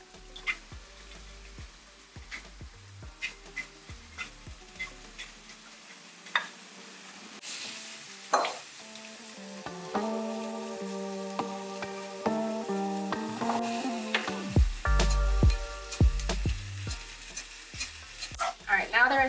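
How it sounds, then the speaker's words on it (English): Stirring a marinade in a pan while cooking Senegalese food, with scattered scrapes and clinks of a utensil, then a steadier sizzle and clatter building toward the end; close and moderately loud, no talk. "Going to just stir that into the marinade."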